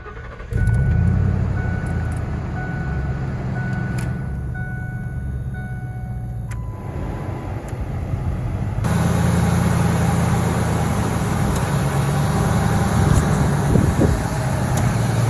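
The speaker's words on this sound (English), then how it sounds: "I'm going to try to talk over the truck here" A 1998 Ford F-150 truck idling with the air conditioning on, its engine a steady close rumble; a few seconds in, the compressor kicks on and the idle gets noticeably louder and fuller.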